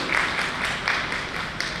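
An audience claps together at an indoor gathering, a steady, close wash of applause lasting a couple of seconds with no pauses.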